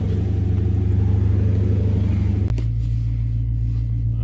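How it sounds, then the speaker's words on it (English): A 2012 Chrysler 300S 5.7 Hemi V8 idles high with a loud, pulsing low rumble, then drops abruptly to a steadier, smoother idle partway through. "See, it's idling"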